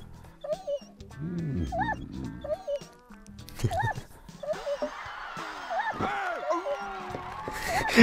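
Dog yips, whimpers and short barks from a video game, coming in bursts against game music and effects, with someone talking over parts of it.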